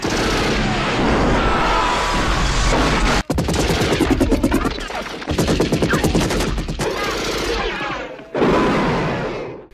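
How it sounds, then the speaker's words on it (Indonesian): Dense, sustained machine-gun fire from an M60 roars through a film battle scene, loud bursts rattling almost continuously with brief breaks and crashing impacts layered in. "komando mendapatkan senapan mesin M60 dan membantai lebih banyak pasukan"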